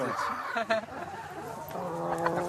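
Chickens cluck and squawk close by in a busy, noisy farmyard in Brittany, with a few louder agitated calls breaking through.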